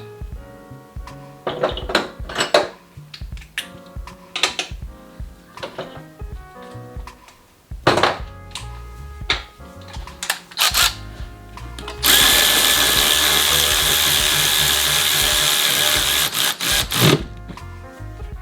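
A 10 mm socket tool fastening a turbo heat chamber bolt during an EQT turbo install: scattered metallic clicks and knocks, then a loud continuous power-tool whir for several seconds, close by with no speech.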